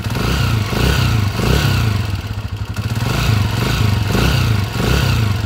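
A Honda TMX155 motorcycle engine idles with a worn, rough timing gear, giving a loud, steady, close running note with constant rattling clatter and no talk.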